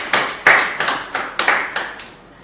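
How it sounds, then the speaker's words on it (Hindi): Hand claps ring out in a short, uneven run of about seven sharp, close claps, a small cheer of appreciation for cricketer Rajat Patidar, with no talk over them. "रजत पाटीदार के लिए ताली होनी चाहिए"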